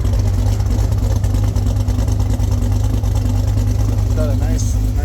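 A Cummins diesel with a custom cam and larger injectors idles close by in a steady, deep, loping rumble, with someone talking over it.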